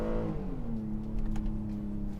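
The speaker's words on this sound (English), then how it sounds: "I will admit though, the V6 doesn't actually sound all that bad." V6 engine of a 2018 Honda Odyssey LX minivan revving under acceleration, a steady droning tone rising and holding, close and moderately loud with no talk.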